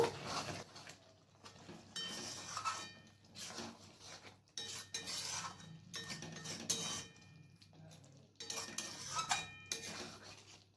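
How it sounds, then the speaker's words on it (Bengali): Paneer curry is stirred in a pan with a spoon, producing quiet, rhythmic bursts of scraping and clinking metal at intervals of roughly a second or two, soft and close, with no voices. "এরপর আবার ভালো করে মিক্স করে নেব।"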